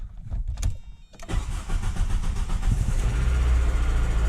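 Volkswagen Golf GTI with about 228,000 km and an exhaust leak: a few quiet clicks, then the starter cranks and the engine catches, settling into a loud, steady, rough idle close by.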